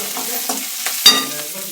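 A spoon stirs ingredients roasting in a pan for kharda, a spicy Maharashtrian chili relish, giving soft scraping and gentle sizzling with a few sharper clinks against the pan, close up and without speech.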